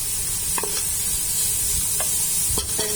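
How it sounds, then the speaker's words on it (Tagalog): Carrots are stirred in a frying pan for Bucari rice, under a constant close sizzle with a few soft scrapes and clacks of the spatula against the pan. "At isusunod na natin tong carrots. Haluin lang natin"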